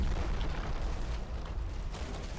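Mortar bombs exploding in the wartime strategy game Combat Mission, a continuous deep rumbling roar of blasts with low booming weight throughout, no speech.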